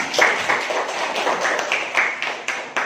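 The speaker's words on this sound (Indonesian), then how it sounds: "Luar biasa, tepuk tangan." A classroom group claps hands together in a steady, moderately loud burst of overlapping claps that carries through the whole stretch without talk.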